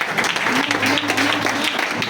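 A church congregation applauds in response to a preacher's call, steady dense clapping filling the whole moment with a faint low hum beneath.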